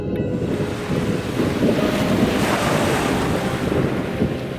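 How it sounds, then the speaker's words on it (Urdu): Ocean waves rolling onto the shore at night: a loud, continuous surging wash with wind noise over it and a steady roar that swells slightly midway, with no voices. "سمندر کی لہریں شور مچا رہی تھیں"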